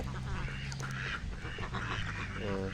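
Ducks quack repeatedly close by, nasal calls overlapping with a person talking softly in the background.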